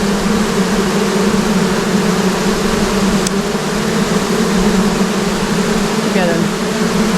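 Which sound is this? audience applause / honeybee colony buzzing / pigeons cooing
honeybee colony buzzing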